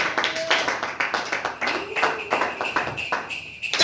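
Church congregation clapping and cheering to acclaim the Lord during a sermon, a dense burst of applause with voices mixed in, steady and fairly close throughout.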